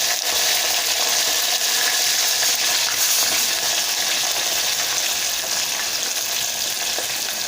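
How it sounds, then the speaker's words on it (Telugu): Onions and green chillies frying in a pan for a dal with mixed vegetables, a loud, dense, even sizzle close up that runs unbroken throughout with faint stirring underneath. "ఈ ఆనియన్స్ లైట్గా ఫ్రై అయ్యే వరకు ఉంచండి."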